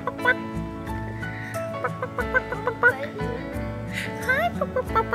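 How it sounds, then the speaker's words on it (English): Chickens on a plantation cluck close by in a run of short, repeated, uneven calls with brief pauses between bursts. "Oh, look at the chicken."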